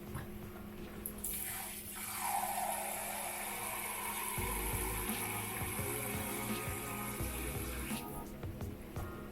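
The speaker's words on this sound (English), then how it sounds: "we're gonna add another 2 cups of water." Water poured into a pot of rich ramen stock, a continuous splashing, gushing pour lasting several seconds over background tones, with no talking.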